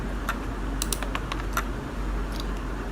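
Fingers tap a computer keyboard for copy and paste shortcuts, giving a few light, scattered key clicks. They sound faint and close over a steady background hum.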